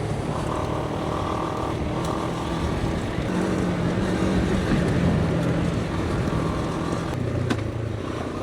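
A Moto Morini X-Cape 700 motorcycle engine drones steadily while riding off-road, a constant mid-level rumble with road and wind noise throughout and a few small knocks along the way.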